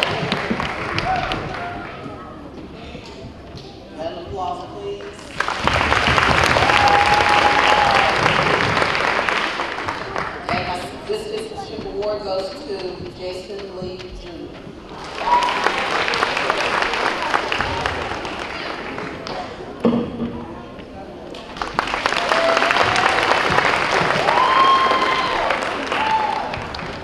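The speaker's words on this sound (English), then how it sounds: "Applause, please." Audience applause at a school awards ceremony comes in three long, loud waves of dense clapping, separated by quieter stretches where a presenter speaks over the room.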